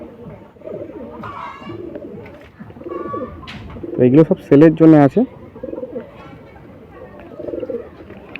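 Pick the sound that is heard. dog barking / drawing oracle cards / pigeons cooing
pigeons cooing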